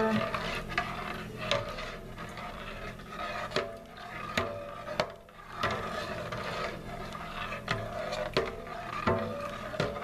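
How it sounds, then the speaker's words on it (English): Wassail, a holiday drink, being stirred in a pot: quiet, close scraping and knocking of a utensil against the pot at irregular intervals, with soft swishing between the strikes. "Just give it a stir."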